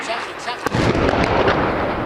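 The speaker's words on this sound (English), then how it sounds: "Here's the moment of explosion that sent smoke billowing into the sky." A heavy blast from an Israeli strike on the Syrian Defense Ministry in Damascus rings out as a loud, sharp crack, followed by a dense, sustained rumble and roar that fills the air.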